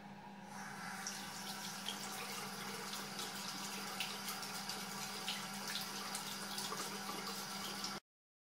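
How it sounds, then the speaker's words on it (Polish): Steady rush of tap water running over a Philips S7530/50 electric shaver being rinsed, continuous and fairly close, with faint splashing and no voices, stopping abruptly at the end. "Po skończonym użytkowaniu golarkę wystarczy umyć pod bieżącą wodą."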